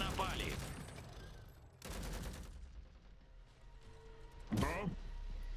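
Heavy gun fire in the war strategy game Iron Harvest: bursts of rapid, crackling shots in several loud volleys with pauses between them, up close and mixed with other game sounds.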